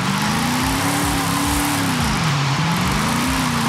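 A car drifts around a roundabout in the racing game Forza Horizon 5, its engine droning loud and continuous with a wavering pitch as the revs rise and dip, heard alone without talking.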